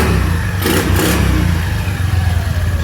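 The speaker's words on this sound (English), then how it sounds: "this is what the bike sounds like" A Honda Navi motorcycle engine with its stock muffler runs close and loud, with a steady mechanical clatter and throttle blips that briefly raise the pitch, then settles back to a chugging idle.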